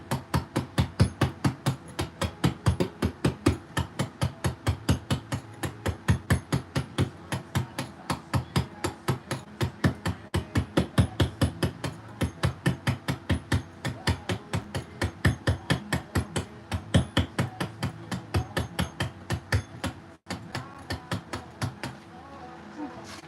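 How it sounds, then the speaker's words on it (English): A stonemason's hammer strikes stone in a steady, rapid rhythm, dozens of sharp, loud blows over and over with only brief pauses, close by. "this hammer starts to feel a bit heavy after we swung it around so much."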